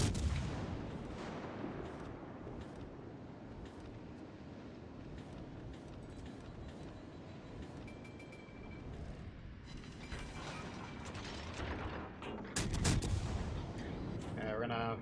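The battleship Alaska fires its heavy guns during a World of Warships Legends naval battle, deep booming salvos amid constant game noise, with a player talking over the action.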